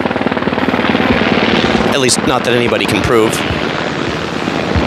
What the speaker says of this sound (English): That's a helicopter passing over.